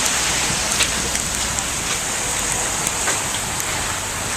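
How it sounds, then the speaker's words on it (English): Hail pelts down steadily outdoors during an icy hailstorm, a dense, continuous hiss of pattering ice, close and fairly loud with no letup. "Still hail falling."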